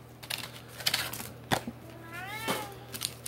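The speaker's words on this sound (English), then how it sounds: "We have kitties." A house cat meows in a room, a short rising and falling call near the middle, amid faint rustling and tapping of trading-card packs being handled.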